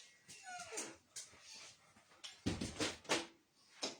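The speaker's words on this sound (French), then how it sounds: "j'ai ma chienne qui veut rentrer" A female dog whimpers and whines at a door, wanting to come inside, in a series of short, high, nasal cries interspersed with small yips, fairly close and loud.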